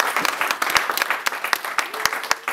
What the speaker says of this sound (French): je vous prie de saluer son travail avec des applaudissements